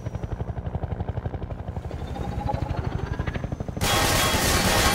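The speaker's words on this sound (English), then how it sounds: "Well, I don't know what the chopper is." A helicopter passing overhead in the video game Half-Life 2, its rotor chopping in a steady rapid thump that grows louder and harsher near the end, heard alone with no talk.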